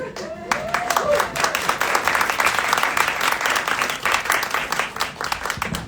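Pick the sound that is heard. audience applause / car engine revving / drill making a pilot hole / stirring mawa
audience applause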